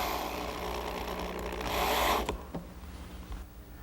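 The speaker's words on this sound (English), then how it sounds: "To secure the top and bottom pieces, I'm just using some screws." A power driver sets screws into the top and bottom pieces of a hard pine hanging corner cupboard, giving a close whirring, ratcheting drive that builds, then stops abruptly with a few light clicks and knocks after.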